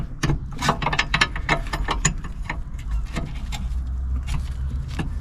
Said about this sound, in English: And tighten up the bleed screw.